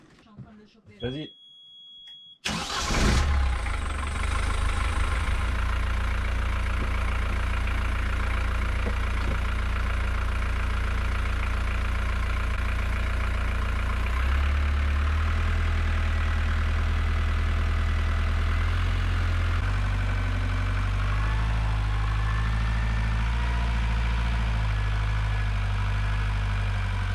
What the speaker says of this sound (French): Tu démarres juste le moteur.